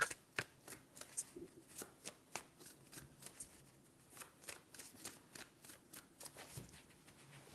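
Tarot cards shuffled by hand close up, a steady run of crisp riffling bursts and soft slaps repeating for several seconds, with no talking.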